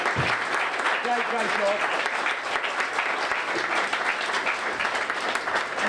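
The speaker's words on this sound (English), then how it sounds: "A huge round of applause for these guys, please." Live audience applauding steadily at a venue, a continuous dense wash of clapping lasting throughout, with a voice speaking briefly over it.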